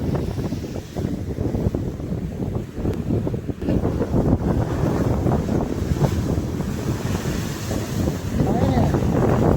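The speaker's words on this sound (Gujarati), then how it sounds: "સમુદ્ર" Sea waves and wind on the shore beside a seaside cave temple, a steady, loud roar of surf washing in with wind buffeting the microphone throughout.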